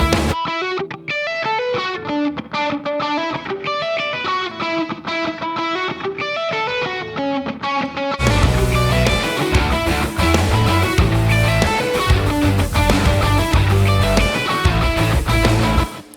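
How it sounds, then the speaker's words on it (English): Reverb and bucket brigade delay from an Allen & Heath dLive mixer's RackUltra FX card wash over a loud band mix, with the sound growing fuller and denser halfway through as the effects come in. "I'll bring in the verb, then also the bucket brigade."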